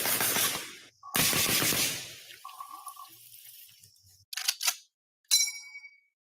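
Semi-automatic rifle fitted with a red dot sight firing in a video game: a few sharp, separate shots with short ringing tails, spaced irregularly, close and loud, with no talking.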